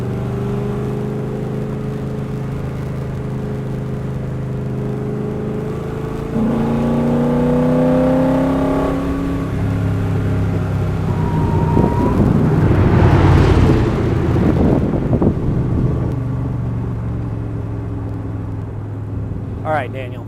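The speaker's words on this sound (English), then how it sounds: "All right, Daniel, 1967 L71 Corvette, 427, 435 horsepower" A 1967 Corvette L71 with a 427 engine rated at 435 horsepower revs on a track, its deep, rising engine roar swelling and falling over about twenty seconds, close and loud.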